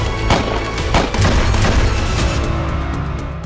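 Rapid bursts of gunfire from an attacker firing at close range during a ballroom event, a dense volley of loud cracks and booms that blur together into sustained noise, with no voices.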